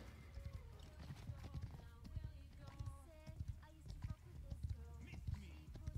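Horse hooves clip-clopping in a rhythmic gallop in the video game Paladins, with occasional whinnies, under quiet game sounds and players chatting.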